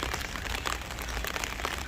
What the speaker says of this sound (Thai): คิดว่าฝนบ่นาจะหยุดแล้วล่ะน่าจะตกแบบนี้ไปเรื่อย ๆ